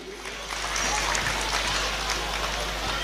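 Applause welcoming guests at a gathering: a steady wash of many hands clapping from a crowd, rising after a moment and sustained throughout.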